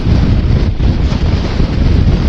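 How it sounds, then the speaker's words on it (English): Loud, constant wind batters the microphone on a Ladakh mountain road as a sandstorm approaches, a heavy rushing roar with no pauses. "it's really, really windy."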